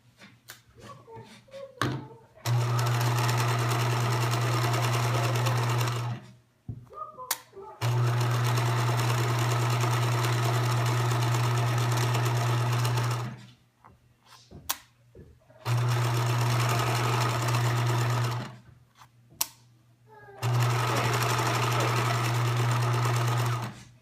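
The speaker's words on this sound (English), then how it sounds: "I'm just going to keep sewing right over that gap for the next one" A sewing machine stitches a fabric drawstring bag in four long steady runs, separated by brief pauses with handling noise and a little talking, close and loud.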